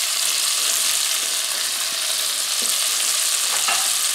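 Red bell pepper and sliced garlic sauté in a hot pan with a loud, steady sizzle, with a few faint scrapes of stirring underneath.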